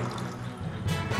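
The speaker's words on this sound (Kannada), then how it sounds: "ಇವಾಗ ಇಲ್ಲಿ ನಳದ ನೀರು ಬರ್ತಾ ಇದೆ, ತಗೊಂತ ಇದ್ದೀವಿ" Muddy municipal tap water running into a container in Gokak, a continuous splashing, gushing pour heard close up.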